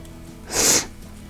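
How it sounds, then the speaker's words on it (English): A single short, sharp sniff through the nose from someone with a head cold, brief and close, in an otherwise quiet room. "Oh, excuse my sniffles."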